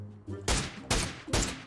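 Three loud, close gunshots fired at a car in a video game, spaced evenly about half a second apart, with a low hum underneath.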